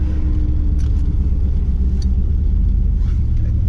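A 1994 Chevrolet Camaro with a CC503 cam, running a stock OBD1 tune with the air pump on, idles steadily while warming up, a close, continuous low rumble with no voices.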